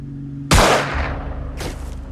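Gunshot from the video game Xenonauts: one sharp, loud blast with a decaying tail, followed about a second later by a fainter second report.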